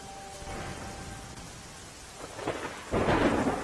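Heavy monsoon rain with thunder over Nakhatrana village in Kutch, Gujarat: a steady, dense roar of rainfall, with a louder rumbling surge building over the final second or so.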